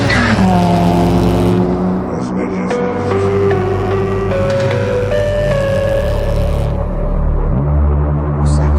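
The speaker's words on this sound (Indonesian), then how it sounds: "dengan santainya ia masuk ke dalam mobilnya dan memacu mobilnya menuju ke" Car engine revving hard as it pulls away at speed, a loud sustained motor roar with rising harmonic whine, heard alone with no talk.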